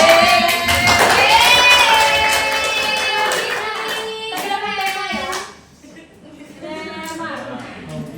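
Classroom students clap their hands in a rhythmic chant during an Indonesian-language drama lesson, sharp claps recurring steadily over loud group voices that carry a sung, tonal pattern, fading near the end before picking up again.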